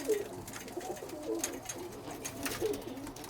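Birmingham Roller pigeons in a loft give low, repeated coos at a moderate distance, three or so soft calls over a faint background.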